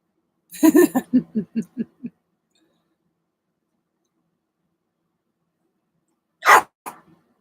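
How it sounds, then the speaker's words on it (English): A dog barks indoors in a quick burst of about six close, fairly loud yaps, followed after a long silence by one or two more sharp barks. "Who are you barking at?"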